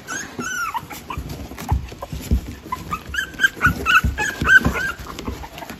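Three-week-old puppies whimper and yip close by, a busy stream of high, wavering cries and short yelps overlapping with soft rustling and bumps throughout.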